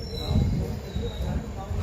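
Konkan Railway train pulling away from a station, a low rumbling roll of wheels on track with faint rhythmic clatter, heard close and steady for under two seconds.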